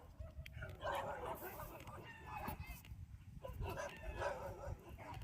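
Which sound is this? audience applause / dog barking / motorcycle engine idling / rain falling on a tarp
dog barking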